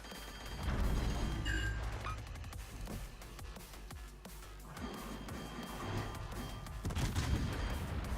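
Naval gunfire in World of Warships: distant booming shell volleys and impacts rumble under steady ship and ocean ambience, with occasional sharper cracks, fairly faint overall and no talking.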